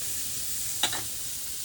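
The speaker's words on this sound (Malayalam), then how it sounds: "അങ്ങനെ മീൻ ഓരോന്നായി ചട്ടിക്ക് ഇങ്ങനെ പൊരിക്കുന്നുണ്ട്." Fish fries in an aluminium pan with a steady, quiet sizzling hiss throughout, broken by a brief clink near the middle, with no voices.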